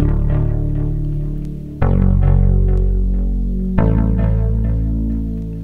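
A lush, evolving preset from the Cauldron synthesizer app on an iPad plays alone: three swelling chord stabs with shimmering, echoing partials, each new chord entering every couple of seconds and decaying slowly.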